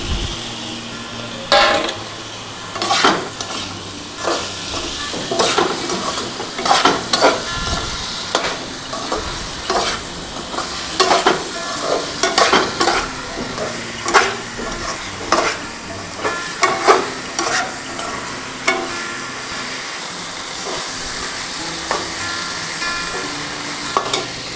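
Eggs added to fried vegetables in a pan for an egg curry, loud sizzling broken by frequent rhythmic scraping and clacking of a spatula stirring against the pan, continuing throughout with no voices.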